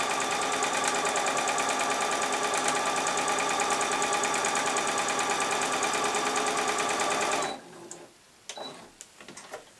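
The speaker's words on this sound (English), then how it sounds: "I'm just using a straight stitch and sew all the way around" A sewing machine runs a continuous straight stitch through fabric pieces for a small stuffed chicken, a steady fast mechanical whir for about seven seconds before stopping abruptly, followed by a few faint handling clicks.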